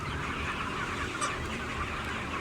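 Broiler chickens cluck softly inside a barn as a dense, steady murmur of many birds, with one brief higher call standing out midway. No one speaks.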